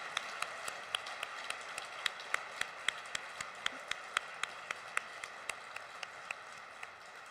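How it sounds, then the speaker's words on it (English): Steady, evenly spaced claps at a quiet, distant level, applause for competitors at a girls' oratory competition in Minnesota, continuing without talk. "Now for some richly deserved applause for all of our Speaking Proudly competitors and finalists."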